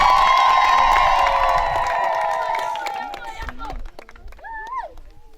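A large crowd at a school reception for a visiting delegation in Kwango cheers and acclaims loudly, sustained shouting and ululating voices gradually thinning toward the end.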